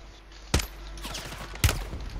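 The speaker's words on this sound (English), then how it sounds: "I just got sniped" Two sharp, heavy gunshots in a video game, about a second apart, each a loud crack with a short booming tail over a low background rumble.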